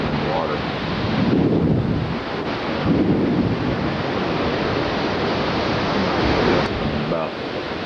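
Hurricane Fran's winds at about 65 miles an hour roar at Wrightsville Beach, North Carolina, in 1996, as a loud, continuous buffeting rush with gusty surges and strong microphone wind noise.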